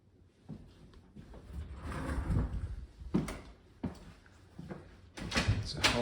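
Double closet doors in a house bedroom with laminate flooring open or close with a few separate knocks and thuds, close and moderately loud, spaced over several seconds against a quiet room.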